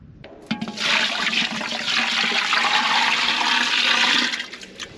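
Water pours in a steady, loud rush into the cooling hopper of a 1920s Witte 3 hp hit-and-miss engine, running continuously for about four seconds before tapering off.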